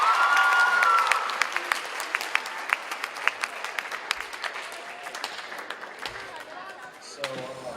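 Applause from a high school talent show audience greets a quiz bowl teacher, a broad wash of clapping with sharp louder claps and thuds standing out, tapering off near the end where a voice begins speaking.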